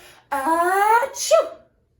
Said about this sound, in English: sneezing an even bigger sneeze than before